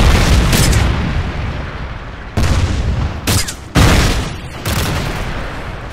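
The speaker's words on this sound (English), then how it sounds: "Friendly Predator missile inbound." Loud, dense boom of an explosion from a Predator missile strike in Modern Warfare 3, with a sustained rumble broken by sharp cuts and renewed blasts across the clip.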